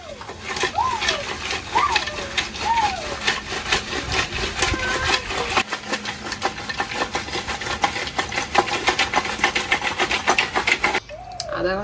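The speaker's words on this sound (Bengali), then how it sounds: "আধা ঘন্টা ধরে হাঁড়িটা নাড়াচ্ছি" A pot of malai kulfi set in salted ice is stirred steadily, giving a continuous, rhythmic scraping and rubbing that stays close and fairly loud throughout.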